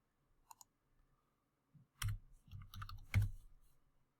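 A few scattered clicks come first, then two short bursts of computer keyboard typing, close and moderately quiet, in an otherwise silent room with no voices.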